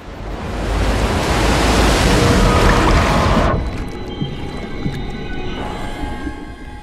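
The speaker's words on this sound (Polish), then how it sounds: "Coś mi się zdaje, że taka gigantyczna fala w takim jeziorku to raczej mało prawdopodobne" A giant wave surges across a small lake in Outlast 2, a loud, dense roar of rushing water for about three and a half seconds that cuts off abruptly, leaving a quieter bed of lapping water and scattered faint tones.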